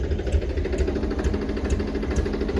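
Powertrac Euro 50 tractor engine running at a steady idle, a close, loud, low diesel chug with an even knocking rhythm and rattling vibration, continuous for a few seconds with no talk.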